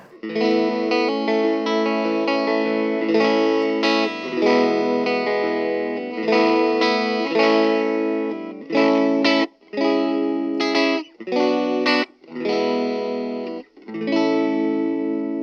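An electric guitar strums and picks chords through the clean channel of an Aroma AG-04 portable amp, fairly clean, slightly shimmering tone, stopping and starting in short phrases.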